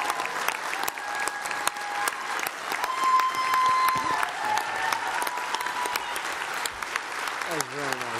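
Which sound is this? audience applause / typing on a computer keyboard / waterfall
audience applause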